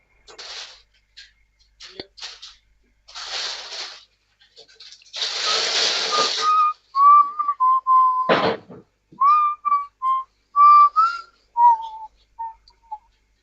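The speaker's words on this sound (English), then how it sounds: "The whistling suddenly turns into a song." Whistling in the video game Wild Gods starts after some scattered shuffling and a burst of noise, then settles into a clear melodic tune of short, spaced notes, loud and close, with no talking.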